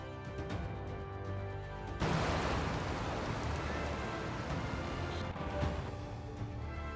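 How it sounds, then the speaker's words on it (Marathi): Heavy rain pours down steadily in Pune, a dense roar of drops that swells suddenly louder after a quieter start and stays loud throughout, with no voices. "मुसळधार पावसानं पुण्याला झोडलं."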